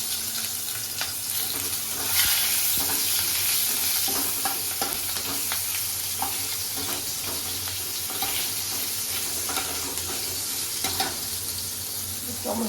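Panch phoron whole spices and whole garam masala sizzle steadily in hot oil while being stirred, with scattered spatula scrapes and crackles over a constant frying hiss, close and moderately quiet, no talking.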